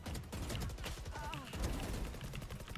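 Rapid bursts of gunfire from the tactical shooter game Valorant, dense overlapping shots over about three seconds with a steady loud intensity and faint background voice.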